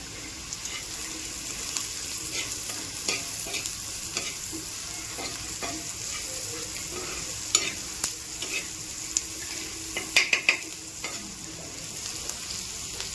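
Onions with salt sautéing in a pan, a soft steady sizzle under repeated scraping and stirring strokes, with a few sharper clinks of the utensil against the pan.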